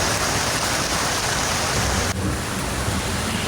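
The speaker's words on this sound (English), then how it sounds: "how loud the hail sounds coming down on the roof" Hail pelts a house roof in Citrus Heights, California, during a storm, a dense, steady roar of impacts that stays loud and close throughout, with no voices.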